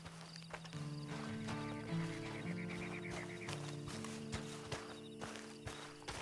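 A horse walks with soft clip-clop hoofbeats and a brief whinny in Red Dead Redemption 2, the steady footfalls low and somewhat distant beneath a sustained musical score.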